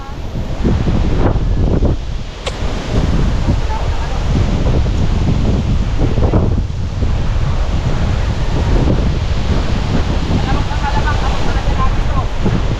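Loud, strong wind blows by the sea, a dense, continuous roar battering the microphone in surging gusts, with voices faintly mixed in.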